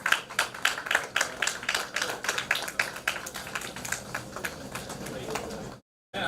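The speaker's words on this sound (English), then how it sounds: "let's have a few rounds of applause" Audience at a data science and machine learning workshop felicitation ceremony claps steadily, with dense overlapping hand claps that keep up for about six seconds, then cut off abruptly near the end.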